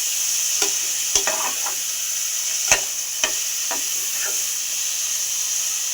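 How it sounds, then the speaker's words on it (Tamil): Onions sauté in a pan with a steady close sizzle, and a utensil gives a few sharp scrapes and clicks as it stirs them, with no talking. "வெங்காயம் வதக்கு வதக்கு வதக்கு"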